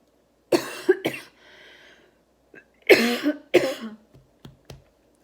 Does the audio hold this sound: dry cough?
yes